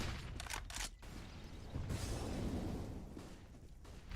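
A grenade detonates during a competitive Counter-Strike-style match, a broad, dense blast rumble that swells and lingers for a few seconds amid other game noise.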